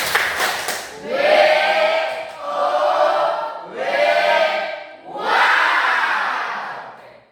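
A crowd breaks into bursts of cheering and shouting, swelling and fading in several waves, loud and close, with no clear speech.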